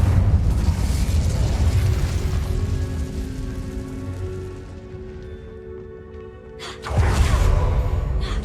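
An Incendio fire spell bursts in a Hogwarts Legacy cavern, a loud roaring blast that fades to a crackling rumble, then a second heavy whoosh erupts near the end.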